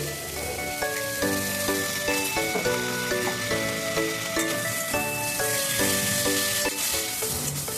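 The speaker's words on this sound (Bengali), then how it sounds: "এবার সজনা ডাঁটাটা দিয়ে দিলাম এর মধ্যে দিলাম আদা রসুনের পেস্ট" Drumstick pieces and ginger-garlic paste sizzle steadily in a hot pan, a loud continuous frying hiss under a faint background tone, with no talking.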